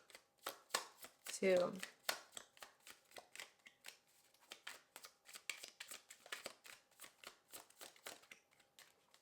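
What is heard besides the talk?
shuffling a deck of tarot cards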